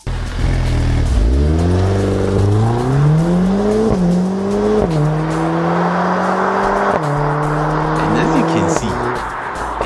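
Mercedes A45s AMG accelerating hard, a loud, close engine roar whose pitch climbs steeply through the gears with clear drops at each shift, voices murmuring faintly beneath it.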